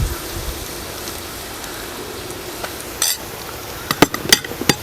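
A spoon stirs spice masala in a pan for a Kerala mackerel (ayala) curry, a soft steady sizzle and scrape with a few sharp clinks of utensil on the pan near the end.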